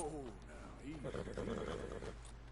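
A horse in Red Dead Redemption 2 gives a close, fairly loud whinny with a rising and falling pitch. It is followed by softer snorting under a steady low game background hum.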